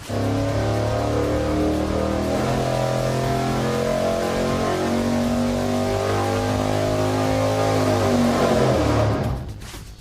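An engine on nitrous roars at steady, heavy load during a dyno test, a loud sustained droning rumble that holds evenly and then cuts off abruptly at the end.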